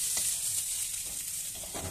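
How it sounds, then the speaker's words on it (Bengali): Potato fries sizzling in a pan alongside egg in a home kitchen, a soft, continuous crackle with a few faint utensil taps, no talking. "মা এখন আলু ভাজাটা আরো ভালো করে ফ্রাই করে নিচ্ছে"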